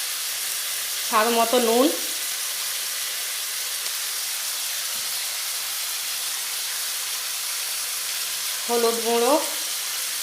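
Washed chicken pieces go into hot oil for a desi chicken curry, giving a continuous hissing fry that stays steady throughout while someone speaks briefly twice.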